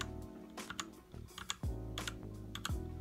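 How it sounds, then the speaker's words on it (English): Keys click on a Drevo Calibur V2 60% budget keyboard with Optimo Red switches, a scattered run of light, close presses over a steady low background hum, with no voices. "to change the color of your keyboard, all you gotta do is just press FN"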